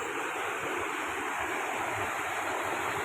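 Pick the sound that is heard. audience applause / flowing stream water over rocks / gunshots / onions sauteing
flowing stream water over rocks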